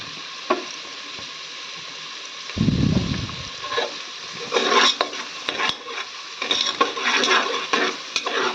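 Chopped onions frying in a pan with chili powder and green chilies, a steady close sizzle broken by bursts of stirring and scraping of a spoon against the metal, with light clinks throughout and no talking.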